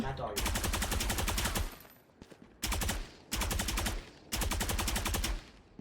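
Rapid automatic gunfire from a weapon skin in the Valorant video game, loud bursts repeating in four sustained volleys separated by short pauses, with faint talk in the gaps.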